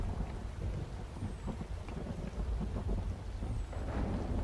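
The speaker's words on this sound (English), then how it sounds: "Yeah, it started raining." Steady rain pours down in an Unreal Engine game scene, a dense, continuous hiss and patter with low rumbling underneath and no voices.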